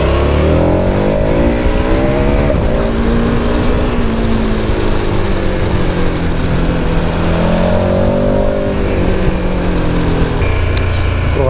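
A KTM 1290 Super Adventure S motorcycle accelerates hard in third gear, its loud close engine note rising steadily in pitch, dropping briefly, then climbing again.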